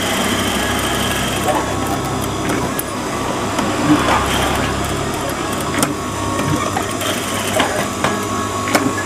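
A sewing machine stitches a square of fabric along a pencil line, a steady close mechanical whir with rattling and thumps running throughout, with a voice over it.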